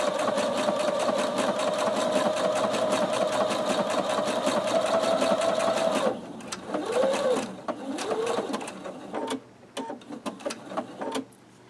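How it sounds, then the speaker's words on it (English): A sewing machine stitches fabric applique on a heart block, running steadily for several seconds before slowing into short stop-and-start bursts as it pivots. "I'm going to go sew back over where I already was"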